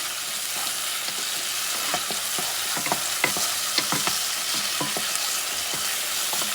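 Chopped garlic fries in a pan for an antelope curry, giving a steady, hissing sizzle with a run of light scraping taps as it is stirred. Each stroke is distinct and close, and no one talks.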